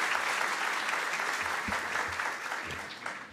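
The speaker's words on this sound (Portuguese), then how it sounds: "pedir também uma salva de palmas para a apresentação que foi realizada pelo pessoal da SP-DOC" An audience gives sustained, even applause after a presentation on public documents in the digital era, a dense wash of clapping from many hands that fades slightly toward the end.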